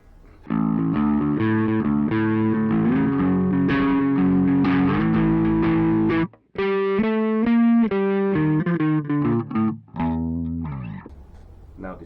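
Electric guitar played through a cheap £30 amp on its overdrive channel, crunchy sustained chords and a riff that pauses briefly, then resumes with choppy strummed notes, loud and close with no talking.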